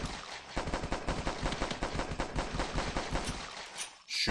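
Rapid pistol fire in the zombie survival game The Last Stand, a dense run of sharp repeated shots at a fast steady rhythm, loud and close with no talk, ending in a short pause.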